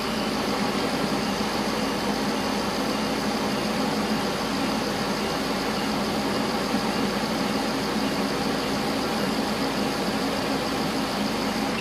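A Workhorse chassis motorhome's 8.1 Vortec engine idles close by with a loud, even, unbroken drone that holds steady for the whole stretch. No one speaks.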